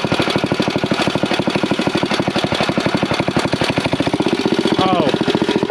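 A neglected 1971 two-wheel-drive Rokon motorbike engine runs loud and close in a steady, fast chuffing idle, rough and rhythmic, with a brief squeal near the end.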